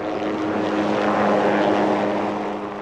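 A helicopter working as a flying crane drones close and loud, its rotor and engine making a steady throbbing roar that stays level the whole time, with no talking over it.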